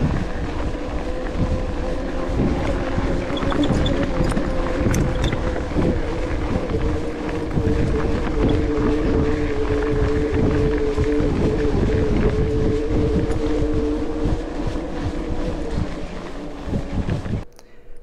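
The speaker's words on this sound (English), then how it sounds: "a motor found on commuter bikes, Velotric 90 Newton meter hub motor" A Velotric 90 Nm hub motor on an electric commuter bike climbs a hill outdoors, its low steady hum running under heavy wind and rolling noise throughout.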